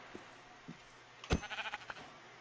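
Several short sheep bleats from the video game Minecraft, a loud close bleat followed by a quick run of fainter repeated bleats over quiet game ambience.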